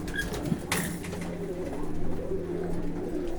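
Pigeons coo in soft, low repeated calls against a steady outdoor background, fairly close, with no one speaking.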